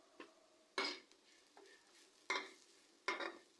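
Spices are stirred in a pan, with a faint, low sizzle beneath four or five sharp scraping strokes of a utensil against the metal, spaced about a second apart, close and without voices.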